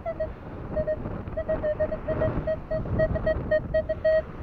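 A Minelab Equinox 800 metal detector sounding on a beach, repeated short electronic beeps of varying length in an irregular run, some closer together, over a background of wind and surf noise.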